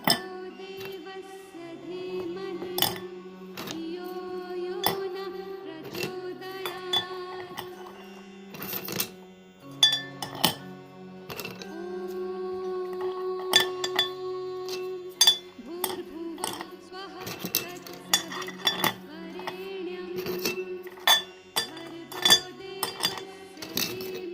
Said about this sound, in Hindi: देखिए मार्बल के टुकड़े डालने से ये टाइटली खड़ा हो गया है